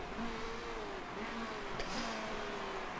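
A Porsche race car in the Motorsport Manager racing game drones past at steady volume, its engine whine shifting in pitch as it goes by, with a soft click midway.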